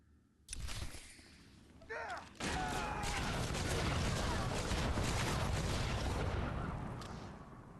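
Blaster fire erupts in a Star Wars: The Old Republic battle on Hutta: sharp opening bursts give way to a dense, sustained barrage of loud shots that fades near the end, with background game noise throughout.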